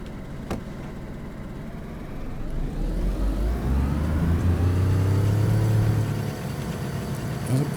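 A car engine in the survival game DayZ struggles with a gear that won't engage: a low idle swells into a sustained droning rev with a rising whine, then drops back, with a sharp click early on.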